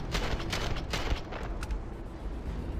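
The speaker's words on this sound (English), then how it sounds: "Why are you shooting at me?" Gunfire in the video game Starfield, a dense, loud, continuous rattle of rapid shots with sharp cracks.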